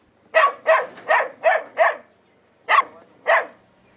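A single dog barks close by in a quick run of five sharp barks, then pauses before two more, loud and clear over a quiet background.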